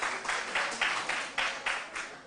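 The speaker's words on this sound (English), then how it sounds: "round of applause" Applause from a quiz audience as contestants finish a round, a steady mid-level wash of clapping with rhythmic swells, no talking over it.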